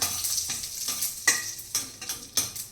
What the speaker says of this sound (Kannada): ಸಾಸಿವೆ ಚಟ್ಪಟ ಅಂದಾಯಿತು ಇವಾಗ ಪಲಾವ್ ಎಲೆ ಚಕ್ಕೆ ಹಾಕ್ತಾ ಇದ್ದೀನಿ